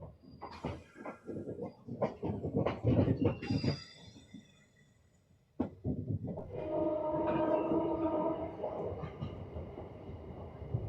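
A MEMU suburban train rolls from a loop line onto the main line near Tiruchanur. Loud rattling clatter and sharp knocks come first, then a short lull, then a sustained rumbling run with tonal whine, muffled voices faintly underneath.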